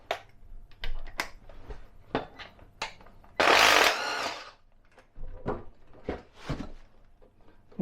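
A power tool briefly whirs as it spins bolts out of a classic Mini 998cc A+ engine. One loud burst of under a second stands out among scattered close clicks and knocks.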